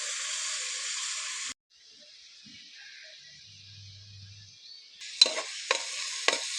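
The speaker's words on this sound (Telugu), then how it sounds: "ఇవైతే కొంచెం దోరగా వేగినాయి కదండి" Vegetables fry in a pan for an elephant foot yam and raw mango curry. A bright hiss cuts off suddenly, a quiet stretch follows, and then the sizzle returns with a few sharp scraping stirs.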